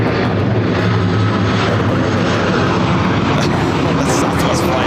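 Airliner arriving on runway 24 right at Los Angeles International Airport, a loud continuous engine roar that fills the whole clip.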